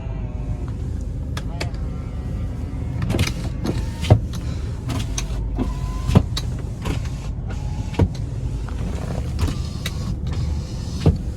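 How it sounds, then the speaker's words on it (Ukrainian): Electric side mirrors folding on a Renault Koleos, heard as a few short motor whirs and soft clicks that stand out from a steady background hum, with a voice speaking nearby. "дзеркала у нас закриваються"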